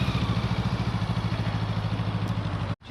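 A motorcycle engine runs with a steady, pulsing throttle during a riding lesson, close and fairly loud, cutting off abruptly at the end.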